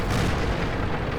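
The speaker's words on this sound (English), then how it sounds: "He's firing 80 rounds. You can tell by the explosion." Tank gun firing with an explosion in World of Tanks, a dense, roaring burst of broadband boom that fills the whole moment, loud and close with no speech.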